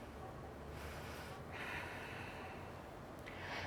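Breathing held during a yoga pose, with soft, quiet inhales and exhales, a couple of sharper airy breaths partway through, close and faint against low background noise.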